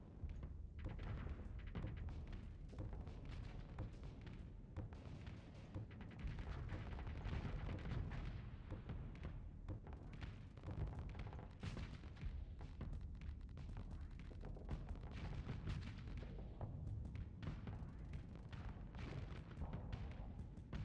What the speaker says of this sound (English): Oh my god, those are bombs.